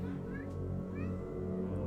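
A cat meows and yowls insistently, close by, over a steady low background hum with faint voice traces.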